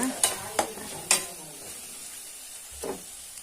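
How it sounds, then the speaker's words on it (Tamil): A spatula scrapes and taps in a pan a few times, sharp close clicks over a faint steady frying hiss, as green chili paste is sautéed on low heat. "சிம்லேயே வச்சு வதக்கிக்கோங்க"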